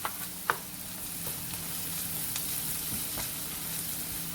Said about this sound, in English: once you let the veggies saute